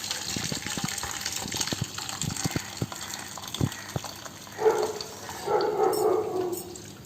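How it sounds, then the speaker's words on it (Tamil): Herbal tea with lemon strained into a vessel: soft clinks and taps come first, then a gushing pour of liquid in two bursts, moderately near and fairly quiet. "இப்போ ஒரு பாத்திரத்தில் வடிகட்டிக்கலாம்."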